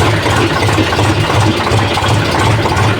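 A tractor engine runs steadily at idle in the rain, a continuous low mid-pitched chug with a faint rattle and knock, close and loud throughout with no pauses.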